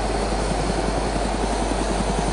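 A helicopter in the video game DayZ drones loudly and steadily with a deep rotor throb, close and unbroken as it descends.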